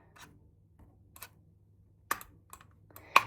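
A Logitech keyboard and mouse set clicks in a quiet room, a handful of sharp, separate clicks spaced irregularly, close and crisp, the last ones loudest.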